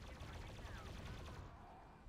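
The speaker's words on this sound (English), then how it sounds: "Here comes the gunfire." Rapid gunfire from Marines in a video game, a dense continuous rattle of shots at moderate volume that thins out toward the end.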